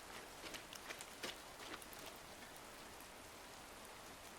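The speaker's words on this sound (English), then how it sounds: "The rain." Soft, steady rainfall in the video game A Storied Life, a quiet even hiss dotted with faint drop taps, with no talk.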